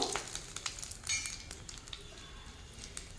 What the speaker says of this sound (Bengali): এখন তেলের মধ্যে দিয়ে দেব তেজপাতা, এলাচ, লবঙ্গ, আর শুকনো লঙ্কাটা একটু ফাটিয়ে হালকা 2-1 বার নাড়িয়ে চাড়িয়ে নেব